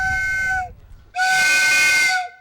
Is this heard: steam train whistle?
yes